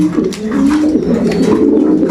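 Racing pigeons coo close and loud in a continuous, overlapping warble, with a few soft rustles and no voices.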